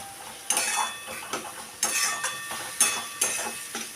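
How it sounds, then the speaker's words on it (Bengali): Spice paste for a lote fish curry being sautéed in a pan, heard as sharp metal spatula scrapes and clinks in an uneven rhythm, close and fairly faint, over a light sizzle. "আমি মশলাটাকে ভালো করে কষিয়ে নিচ্ছি।"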